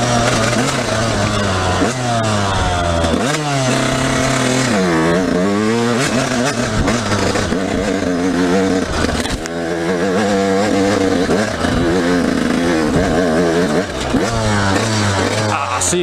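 A dirt bike engine revs and drops continuously as the rider shifts down through gears, loud and close throughout with repeated rising and falling pitch sweeps.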